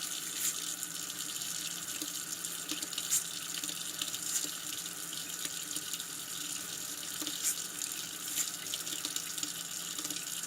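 Tap water runs steadily into a sink while a Remington 1858 revolver part is washed, a close continuous splashing hiss with faint scattered clinks and no voices.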